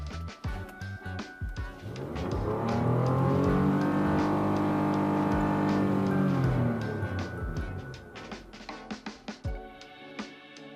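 A 2020 Lexus RX engine heard from inside the cabin, climbing smoothly to a sustained rev near 6,000 RPM, holding there loudly for a few seconds, then falling back to idle amid light clicks and handling noises.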